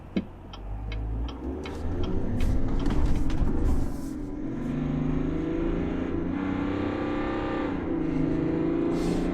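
A 2021 Chevrolet Silverado 1500 half-ton Duramax diesel pickup accelerates. A rough diesel clatter and whoosh builds into a climbing engine drone, moderately loud and steady, with no talking.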